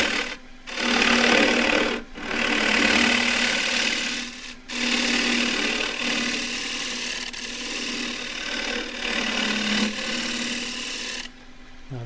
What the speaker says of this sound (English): With the big bowl scraper.